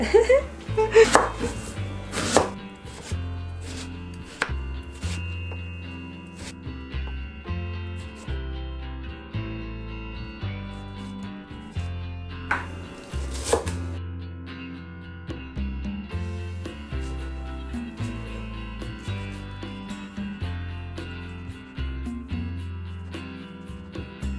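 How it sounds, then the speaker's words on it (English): Rapid, steady knife chops strike a cutting board in a quick repeating rhythm, close by, with a few louder knocks and clatters mixed in, while vegetables are chopped for a vegan quinoa meal. "Once I'm done chopping, I'm going to just drain these."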